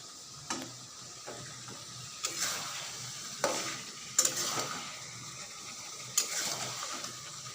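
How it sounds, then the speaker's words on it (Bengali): Meat being stir-fried in a pan, soft steady sizzling with intermittent sharp scraping clicks of a spatula against the pan at irregular intervals, close and fairly quiet. "মাংসটা কষাচ্ছি"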